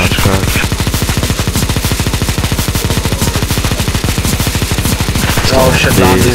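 Rapid automatic gunfire from CS:GO's zombie escape mod rattles in a dense, fast, continuous burst, loud and close, while voices talk faintly in the mix.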